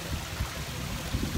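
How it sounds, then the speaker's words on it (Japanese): A small waterfall at a hot spring in Jozankei splashes with a soft, steady rush and faint gurgling, heard from a little distance. "いい滝だねこれ。"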